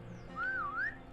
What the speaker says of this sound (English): And as you can see, I can whistle.